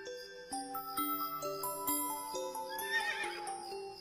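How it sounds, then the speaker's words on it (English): Horse neighing in a long, clear whinny with stepped pitch falls, close and alone over about four seconds. "That's a horse. Horse starts with H."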